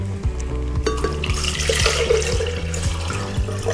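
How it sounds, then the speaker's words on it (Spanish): Two cups of cold water poured into a blender for chestnut milk, a steady continuous splashing and gurgling stream close up, with no talk over it. "En una licuadora vamos a verter las dos tazas de agua fría"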